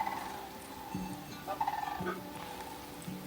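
Wild birds calling in a BC coastal forest along the Inside Passage, a few low, soft hooting calls repeating at intervals, distant and faint against a steady background hum.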